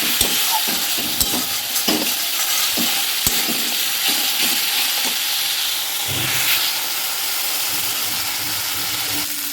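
Spice masala frying and being stirred in a pan, a steady hiss of sizzling oil broken by repeated clicks and scrapes of a spoon against the pan, close and continuous with no talking.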